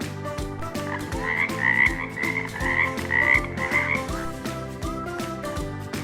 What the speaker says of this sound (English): F is for frog.